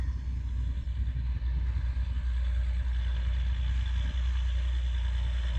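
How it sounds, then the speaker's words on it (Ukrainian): A tractor pulling a 24-row John Deere seeder rumbles steadily nearby while turning in place, a deep continuous drone with faint clattering and no speech. "трактор на місці розвертається"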